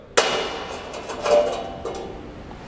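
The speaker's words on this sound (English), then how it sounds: "So using this magnet should pull the piece right out of there." A magnet pulls a plasma-cut steel Ducati logo piece free from its sheet on a CNC plasma table, giving one sharp metallic clank, then scraping and a lighter clink at the end, fairly close.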